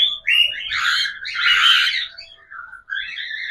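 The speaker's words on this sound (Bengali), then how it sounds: "যেহেতু এটা ককটেল পাখি" A cockatiel gives a run of bright, shrill chirps and squawky calls, close and fairly loud, nearly continuous with short gaps and no talking.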